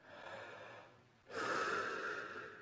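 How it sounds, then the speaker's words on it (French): Sleeping person's breathing as an audio drama effect: slow, soft inhale and exhale, a quiet breath fading out then a fuller, louder breath with a slightly snoring, nasal texture, close and alone without talk. "Il entend à côté de lui une respiration endormie."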